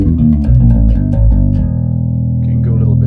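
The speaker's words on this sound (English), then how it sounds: "This is the sound of the bass in a pentode mode" Passive Yamaha BB424 electric bass played through a Sonic Pharm 2Di4 pentode hybrid DI preamp set to pentode mode: a run of quick, round, warm notes that settles into one long sustained low tone, loud and close.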